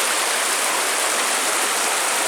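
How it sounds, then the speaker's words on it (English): Water rushes steadily at Mosquito Falls as it pours out into the lake along a cliffside trail, a loud, close, unbroken roar of falling water with no voices. "Water rushing out into the lake."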